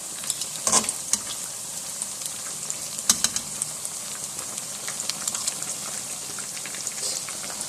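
Cheddar-stuffed gram flour pakoras fry in hot oil with a steady, close fizzing sizzle, crackling bursts and a few louder pops and spatters, with no voices.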